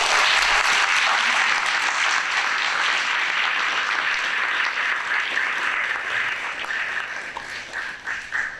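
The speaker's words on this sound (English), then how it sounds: "Let's give Mr. Avery Hall and his family a round of applause." A graduation ceremony audience gives a warm round of applause for a graduate and his family, dense steady clapping from a sizable crowd that gradually thins and fades toward the end.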